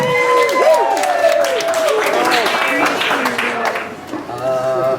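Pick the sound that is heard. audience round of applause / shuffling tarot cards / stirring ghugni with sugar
audience round of applause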